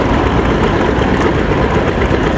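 An Allis-Chalmers 630 tractor with a straight exhaust stack runs steadily nearby, its engine producing a dense, continuous low rumble at constant loudness with no talk over it.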